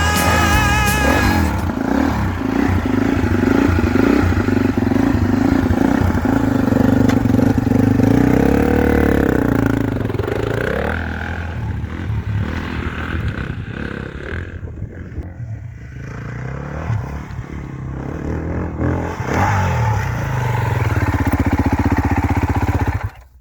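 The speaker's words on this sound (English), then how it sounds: "Right, Tristan, first time on a Beta 390 4-stroke." A Beta 390 motorcycle engine revs and runs loud and close, rising and falling as it rides, with a rough, continuous four-stroke drone throughout.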